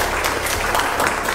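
An audience claps hands in a lecture hall, a dense, even burst of applause lasting briefly and fairly close.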